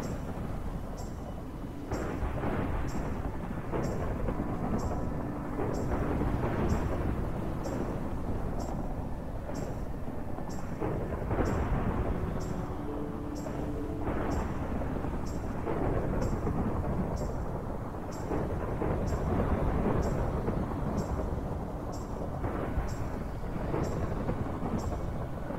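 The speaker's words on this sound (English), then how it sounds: "This thunderstorm is so realistic." Constant heavy rain and rolling thunder from a shader-modded Minecraft thunderstorm, a loud unbroken roar with deep rumbles swelling and fading across the whole stretch.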